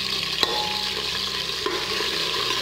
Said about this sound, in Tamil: அதையும் சேர்த்துட்டு நல்லா வதக்கிக்கலாம்